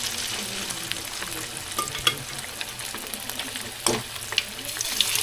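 Chicken wings frying in a pan for a Mang Tomas recipe, a steady, fairly faint crackling sizzle with occasional sharper pops and a few stirring clicks, without any talk.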